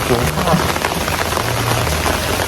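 Steady rain pours down outside a riverside hotel on the Mekong, a dense, even hiss that stays loud and close throughout with no talking.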